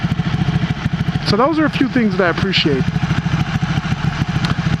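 A 2015 Ducati Panigale R with an underbody exhaust rumbles steadily at a low, throbbing idle, close and constant beneath someone talking.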